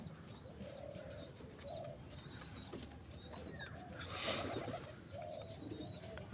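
A dove coos nearby in soft, repeated low calls, while other birds chirp in higher, brighter bursts over a light outdoor background.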